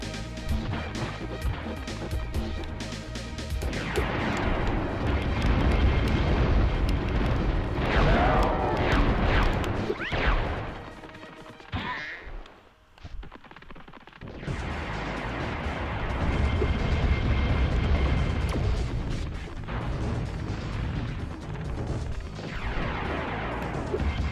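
Tank cannon fire and explosions in the video game Spyro: Year of the Dragon, loud repeated booming blasts and crashing debris over game music, dropping out briefly midway before resuming.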